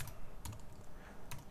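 Computer keyboard typing while coding, a few quiet, sparse key clicks in short bursts against faint background hum.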